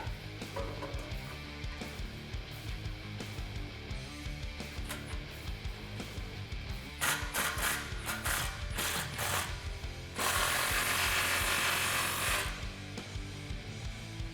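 A ratchet with a 15 mm socket tightens an exhaust resonator clamp on a 2011-2014 Challenger 5.7L, giving rapid close clicking bursts that speed up and then run in a fast, dense stretch near the end.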